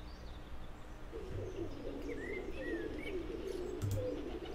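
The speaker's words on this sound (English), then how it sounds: "Wow, it's a pigeon feeding frenzy!" Pigeons in a sunny video game park coo and chirp in soft, repeated calls over a steady ambient bed, with a few brief higher tweets mixed in.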